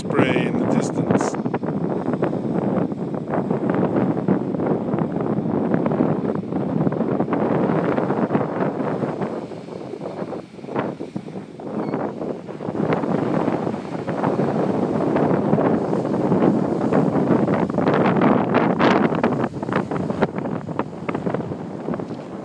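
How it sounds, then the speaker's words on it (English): Strong wind sweeps Craigville Beach, roaring loudly and continuously into the microphone with gusting surges over the whole stretch. "It's a very, very, very, very windy day here on Craigville Beach."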